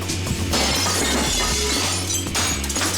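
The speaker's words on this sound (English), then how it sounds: "If I'm gonna have a hard time taking it out, I'm gonna smash the glass." Window glass is smashed out of a frame during a kitchen renovation in a Victorian townhouse, giving a loud burst of shattering with tinkling shards falling over a low rumbling background.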